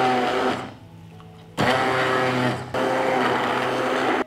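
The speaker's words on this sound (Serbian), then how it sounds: "I sve ću ovo umutiti sa štapnim mikserom" An immersion stick blender whisks milk with dry yeast in loud, buzzing bursts: one short run, a brief pause, then two longer runs close by.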